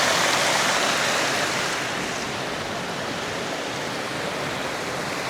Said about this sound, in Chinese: 看到，像个瀑布一样。